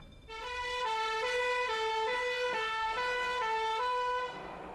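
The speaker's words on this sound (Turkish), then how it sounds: "Alarm çalıştırıldı ve itfaiye yola çıktı." A loud two-tone fire alarm and fire engine siren alternates steadily between high and low pitches, close and continuous, with no voices.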